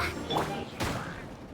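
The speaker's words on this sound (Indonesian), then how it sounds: "Nah, tercipta overload yang mengakibatkan musuhnya kayak terpental, meledak gitu ya." An overload elemental reaction in Genshin Impact, a game explosion with two quick bursting blasts in succession, moderately loud over background game sound.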